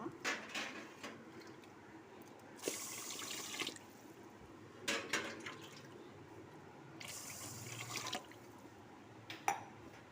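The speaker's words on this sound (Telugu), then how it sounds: "నీళ్ళు పోసుకున్నాం కదా ఎసరికి" Water splashes and pours in a few separate bursts into a pot of washed rice, a faucet-like rush that starts and stops against quiet kitchen background noise.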